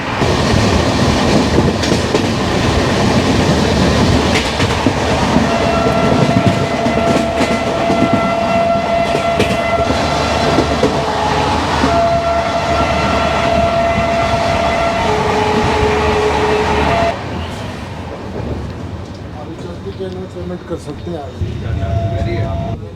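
The 12002 Bhopal Shatabdi Express running, heard as a loud, continuous rumble of rolling stock with steady tonal whines riding on top, holding level before dropping to a quieter hum after about seventeen seconds.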